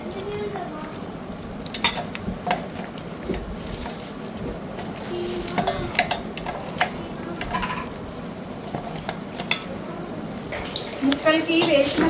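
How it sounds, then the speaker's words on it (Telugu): Goat head curry pieces coated in turmeric, salt and chili are mixed in a pot, with wet squelching, clinking and scraping of utensil against metal throughout, joined near the end by a speaking voice. "మొత్తాన్ని కలుపుతున్నా."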